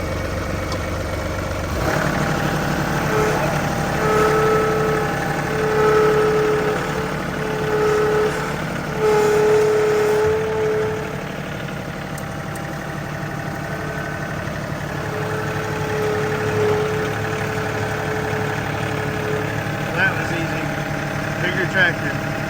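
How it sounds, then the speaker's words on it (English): A tractor engine idles and runs steadily at close range through the whole stretch, a continuous low mechanical drone with a faint hum on top, starting abruptly after a brief quiet moment at the beginning. "Tractor."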